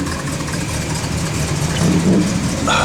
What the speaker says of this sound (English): Car's got a good sound to it.